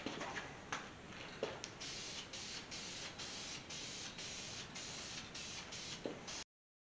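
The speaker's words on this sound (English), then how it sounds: "I'm going to go ahead and dust coat it, let it tack up, put another coat on it" A spray gun applies blue paint to Chevy C10 pickup truck parts in a workshop, a close continuous hissing spray broken by short bursts and brief pauses, then stopping abruptly, with no talking.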